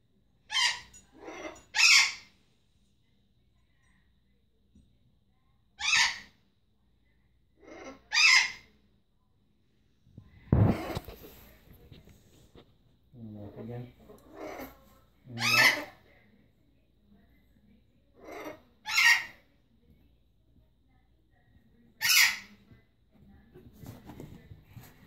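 Loud, harsh bird squawks burst out repeatedly at irregular intervals, close by, with quieter rustling and shuffling noises between them.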